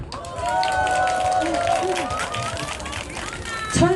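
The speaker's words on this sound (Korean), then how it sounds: "일단은 저기 이재주 나와라 박수" Audience at a variety troupe stage show clapping together in a steady, dense patter, with music and crowd chatter underneath.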